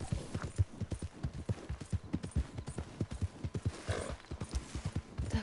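Horse hooves clip-clopping in the video game Red Dead Redemption 2, a quick steady rhythm of close, fairly quiet hoofbeats with no talk.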